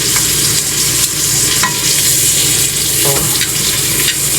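Garlic sizzles and is stirred in a hot pan while cooking steak with vegetables, a constant loud frying hiss with occasional scraping clinks of the utensil.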